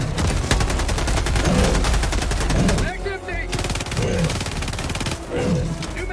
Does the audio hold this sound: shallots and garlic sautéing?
no